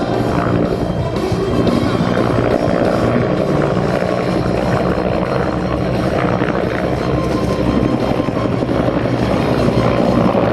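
Loud, continuous rotor thrum and engine roar of Cobra attack helicopters flying close by at an air show, sustained and unbroken with no voices.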